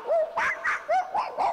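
A human voice imitates the barking of a Schnauzer, a Spitz and a Chihuahua with six quick, yappy barks in an even rhythm, close and fairly loud.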